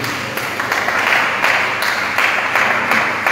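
A congregation at a large prayer and healing vigil in Gagnoa applauds the Lord Jesus, steady dense clapping with a few stronger rhythmic accents, fairly loud and close.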